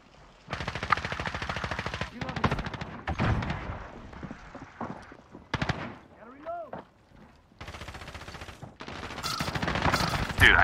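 Rapid automatic gunfire bursts from a Call of Duty Modern Warfare crossplay match, loud and close, broken by short pauses with a rising whine in the middle and voices talking over parts of the action.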